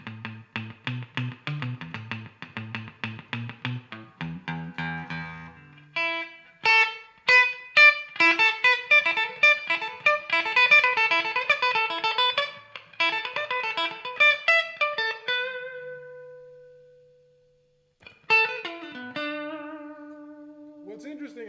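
Electric guitar played through a Guyatone 8-band graphic equalizer, clean plucked notes and quick picked runs with sustained tones and a pause, some faint hiss beneath.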